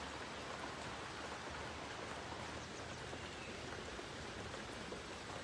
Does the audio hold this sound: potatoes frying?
no